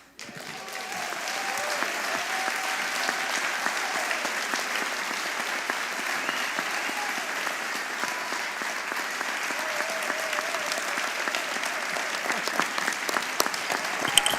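A large audience rises for a standing ovation, producing dense, sustained applause that holds steady for the whole stretch, with a few scattered louder claps near the end.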